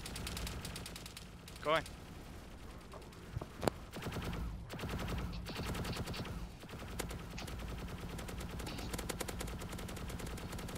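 Gunfire in the DayZ survival game, a few sharp shots standing out briefly amid steady game ambience while players talk over the action.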